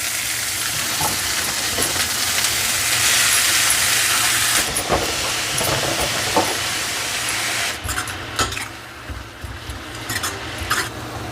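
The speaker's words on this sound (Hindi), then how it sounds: "लहसुन थोड़ा सा ब्राउन हो गई और अब मैं इसमें डाल दूँगी ये कटा हुआ सरसों" Chopped mustard greens tipped into a hot pan over lightly browned garlic set off a loud, steady sizzling hiss that later drops to a softer crackle with a few clicks.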